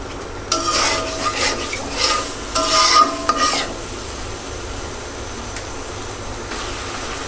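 Vegetable bhaji with light spices is stir-fried in a pan, with bursts of stirring and scraping sizzle during the first half that fade to a low hiss.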